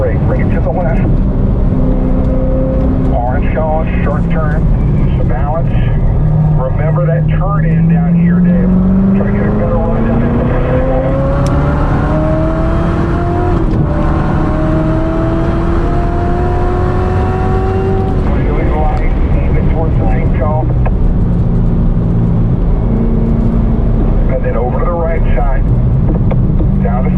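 A 2019 Chevrolet Corvette ZR1 accelerates wide open on a track, its engine note climbing steadily through the gears with a loud, close roar, while a voice talks over it.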